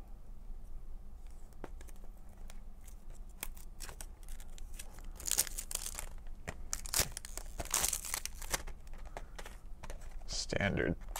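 Plastic wrap being torn and crinkled off a pack of inexpensive saxophone reeds, a series of close, sharp crackling rips and rustles that come in bursts and build louder toward the end, with soft music playing in the background.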